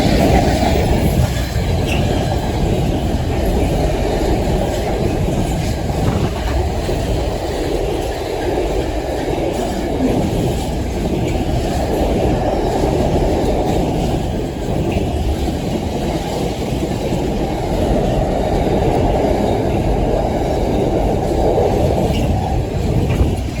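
A Class 66 freight locomotive, number 66704, rumbles loudly and steadily past a level crossing beside a signal box, its wagons sustaining a continuous broadband roar close by for the whole stretch.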